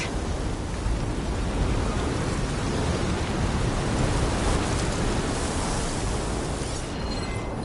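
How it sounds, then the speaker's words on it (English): A storm in the video game Horizon Forbidden West roars with dense, unbroken wind and rain, a loud, wide rush of noise that holds steady throughout and eases slightly near the end. "Oh, the storm's whipped up a sand spiral."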